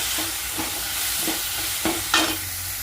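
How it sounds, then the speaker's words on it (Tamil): Tomatoes sautéing with salt in a pan for an egg curry, a steady close sizzle broken by several soft stirring scrapes, one louder near the end, with no voices. "தக்காளி வதங்கிட்டு இருக்குங்க"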